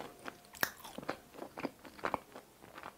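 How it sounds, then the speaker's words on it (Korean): Close-up bites and crunches into the crisp edge of a Pizza Hut pizza crust filled with sweet potato mousse and cheese, a series of sharp, dry crackles and chews in an irregular rhythm, with no talking. "겉에가 굉장히 크런치하고 바삭바삭해요"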